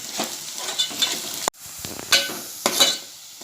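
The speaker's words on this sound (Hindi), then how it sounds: "इसे हम हल्का गोल्डन होने तक तेल में तलेंगे।" Onions fry in hot oil for a drumstick curry, giving a close, crackling sizzle punctuated by several sharp stirring scrapes and clacks of a spoon against the pan.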